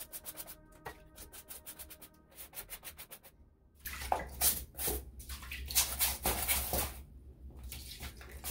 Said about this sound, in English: I'm just gonna scrub the hat